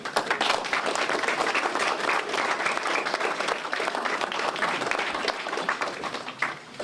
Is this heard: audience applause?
yes